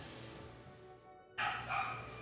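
A dog barks in a short, sharp burst after a low, quiet stretch, with a couple of close yips in quick succession.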